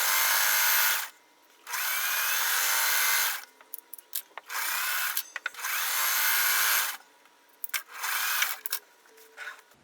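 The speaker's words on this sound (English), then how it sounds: "I'm just going to sew these 4 together, and I am not doing wonky." Sewing machine stitching four quilt fabric strips together for a scrappy strip-set block, in several steady bursts of fast whirring separated by short pauses, close and clear with no talk.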